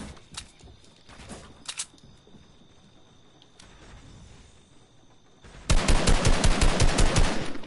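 Automatic gunfire in a PS4 video game, a loud, steady burst of rapid shots that arrives after several seconds of quieter game sounds and a few scattered clicks.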